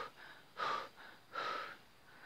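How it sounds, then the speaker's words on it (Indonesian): Heavy panting after climbing a slope during a jungle fowl hunt, close and loud breaths in a steady rhythm of sharp inhales and exhales, with no talk. "Habis manjat lampingnya kayak gini ngos-ngosan."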